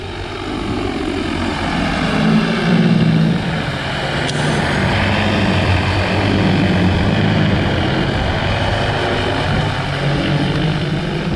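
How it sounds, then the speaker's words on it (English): An agricultural drone flying over a field while spreading wheat seed, its rotors giving a loud, steady, continuous buzzing drone that holds level throughout with no voices. "So we're using a drone to spread our wheat."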